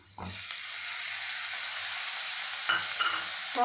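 Tomatoes tossed into sautéed onions in a hot pan for dum aloo, setting off a loud, sustained sizzle with a couple of stirring scrapes near the end.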